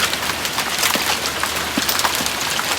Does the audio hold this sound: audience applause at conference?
no